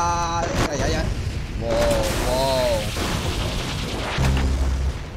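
Booms and bursts of gunfire from the Roblox Arsenal gun game ring out steadily over about five seconds, mixed with whooshing and tonal game effects, loud and busy throughout.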